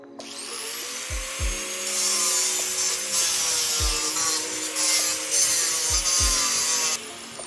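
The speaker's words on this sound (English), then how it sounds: "grab a grinder and cut those cuffs off." An angle grinder cuts through handcuffs in the FiveM game, giving a steady, loud, close metallic grinding whine that holds for about six seconds, broken by a few low thuds, then stops abruptly.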